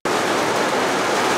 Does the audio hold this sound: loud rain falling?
yes